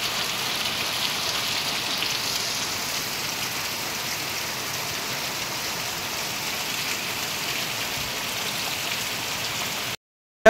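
Heavy monsoon rain pours steadily onto surfaces in a flooded Konkan town, a dense, even hiss of close rainfall with no break until a sudden cut at the end, no voices heard.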